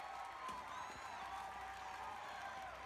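A large crowd at the DARPA Robotics Challenge cheers and applauds for a winning robot from the Korea Advanced Institute of Science and Technology, a steady wash of clapping and shouts held at an even level throughout.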